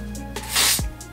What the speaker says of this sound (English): I'm just gonna take some more of that olive oil spray